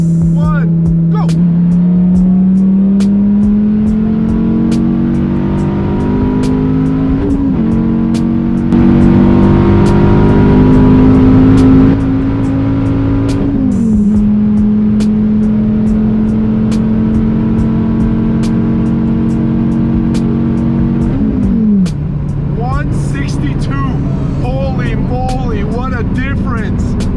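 A car accelerates at full throttle from 75 mph on a freeway during a top-speed run. The engine drone climbs steadily in pitch, with a few brief dips at shifts, loud and close over road and wind roar.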